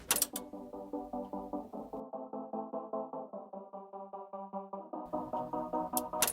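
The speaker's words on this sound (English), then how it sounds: "We use choirs, which sound like this." Choir voices in the bridge of a girl-crush-style K-pop track sing stacked chords in a steady, chopped rhythmic pulse for several seconds. Brief bright percussive hits mark the start and end.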